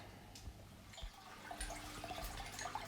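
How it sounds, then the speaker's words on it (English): Water burbles and trickles steadily from an Eheim 2080 aquarium filter running again after cleaning, a soft continuous bubbling with small splashy bursts, fairly quiet and close, with no talking. "So it's happily bubbling and the filter blew a lot of dirt into the water"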